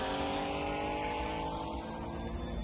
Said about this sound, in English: Damn, that car's spinning like crazy.